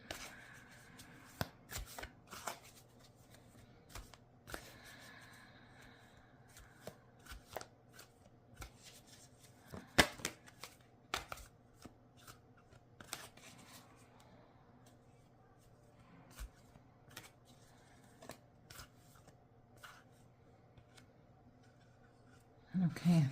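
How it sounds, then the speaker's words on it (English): Tarot cards are shuffled by hand in repeated short riffling bursts and soft slaps, with quieter handling between the bursts. The sound is close and fairly faint. "I know when to stop shuffling because the cards start to feel really heavy"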